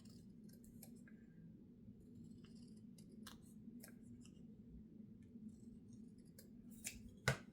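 Scissors trimming excess paper, a series of short crisp snips spread across the stretch over a steady low background hum, with a sharper cut near the end.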